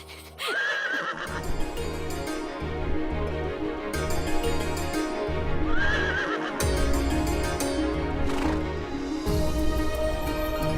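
Cartoon flying horse neighing, two high whinnies over steady clip-clop hoofbeats and background music, with no talk.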